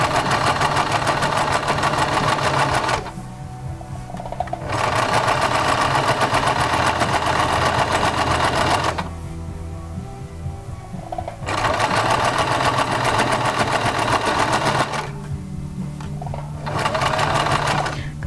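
Sewing machine stitching piping onto fabric, running in steady loud bursts of rapid stitching separated by short pauses, with no talking.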